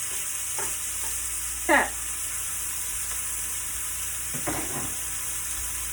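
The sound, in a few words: steak searing in a hot pan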